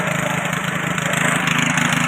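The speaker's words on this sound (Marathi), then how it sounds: "हे मशीन चालवत साईजवर चिखल करावं लागतो" A motorized machine drones loudly and steadily nearby, its engine chugging in a constant rhythm as it churns wet mud in a Konkan rice paddy.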